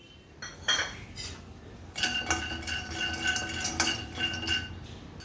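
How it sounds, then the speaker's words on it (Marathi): Almonds roast in a pan while a utensil stirs them, producing close metallic clinks and ringing taps against the pan over a low rattling background, with no speech. "आता यामध्ये आपण बदाम भाजून घेऊया"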